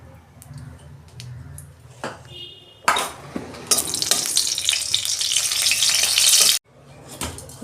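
Dry red chili dropped into hot oil in a kadai for tempering sets off a sudden loud, hissing sizzle that swells for several seconds and then cuts off, after quieter clinks from the pan.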